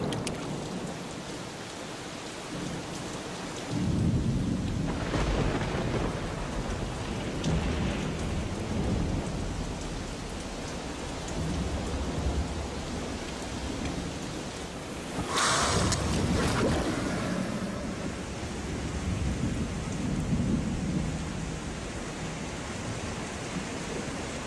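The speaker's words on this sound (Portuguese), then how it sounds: "Finalmente, as chuvas chegam." Heavy rain pours steadily over the Gorongosa wilderness while thunder rumbles repeatedly, including a sharp nearby crack around the middle followed by long rolling echoes.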